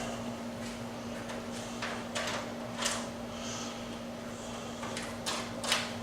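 The side panel of a Thermaltake View 37 PC case slides back, giving several short, quiet scraping and clacking sounds spread across a few seconds over a faint steady hum.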